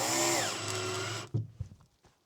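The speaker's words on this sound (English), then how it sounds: "With the drill and the template, screw down into the whole area." A power drill drives a screw through a template into a wall, a loud high whirring burst for about a second and a half, then stopping with a few faint clicks and knocks.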